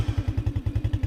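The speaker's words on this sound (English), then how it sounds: "Give it a couple revs, and now the ATV is on." A cheap Chinese 110cc ATV engine idles just after its electric start, a close, steady chugging putter with even rapid beats and no voices.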